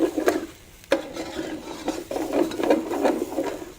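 Tomato concentrate being stir-fried in a pan, a steady scraping and tapping of a utensil against the pan with a few sharper knocks, close and moderately loud, with no talk.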